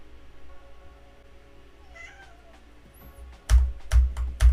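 A pet cat meows a few times, soft at first and then louder and close, set against a quiet background with faint electronic tones.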